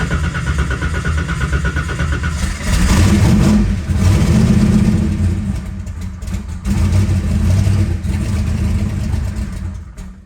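A twin turbo big block Chevy Nova engine cranks and catches, then runs rough and loud close by. Its revs surge and sag in waves over a steady low rumble, with no talk.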